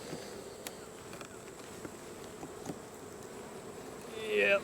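Honey bees buzzing around an opened hive during a hive inspection and mite wash, a soft steady drone that swells into a louder close buzz near the end.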